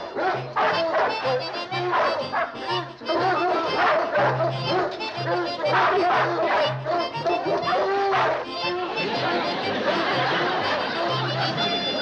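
A dog barks and yips repeatedly in short bursts, close and fairly loud, with people talking and laughing over it.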